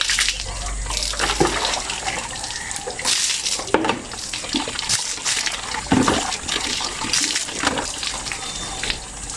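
Water runs steadily and splashes loudly while hair is washed with a foamy shampoo, with close sputtering and gushing bursts from the flow and no clear speech over it.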